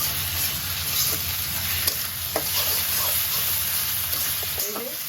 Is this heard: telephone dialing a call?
no